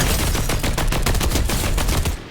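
Rapid automatic gunfire in a Fortnite firefight, a dense burst of fast, evenly spaced shots that runs loud and close for about two seconds before cutting off, with no talking over it.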